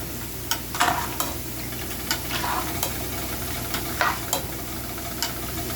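Paprika being stirred into chicken tortilla soup in a pot, a close, steady sizzle marked by repeated scraping strokes of the spoon at an uneven rhythm.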